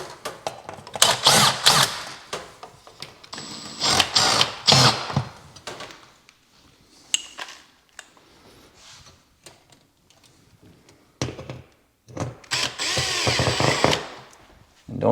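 A power drill drives toggle bolts through drywall to mount an over-the-stove microwave, with loud whirring bursts separated by quiet gaps and a long final run.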